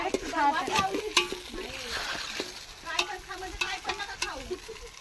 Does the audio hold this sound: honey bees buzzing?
no